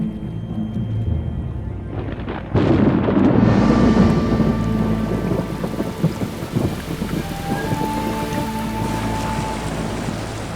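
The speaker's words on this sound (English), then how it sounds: "A thunderstorm is brewing overhead." Thunderstorm over a hot, humid Karelian forest: a loud thunderclap breaks in near the start and rumbles on over steady, dense rainfall that keeps drumming throughout.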